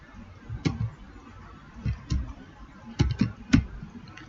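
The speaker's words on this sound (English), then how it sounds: "Let's say I will type the name here." A computer keyboard is typed on in scattered soft clicks, a few isolated taps and short bursts spread over several seconds, fairly faint against a quiet room.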